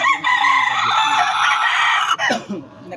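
A loud, close rooster crow holds for about two seconds, followed by a few short clucks as it trails off.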